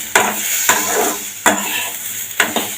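Dried red chillies and radish sauté in a pan for radish thogayal, a steady sizzle punctuated by four or five crisp scrapes and knocks of a ladle stirring against the metal, close and clear.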